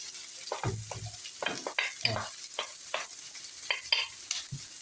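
Chopped onions sauté in oil for spaghetti with tuna, a quiet sizzle under a series of close scraping and tapping stirs at an irregular pace.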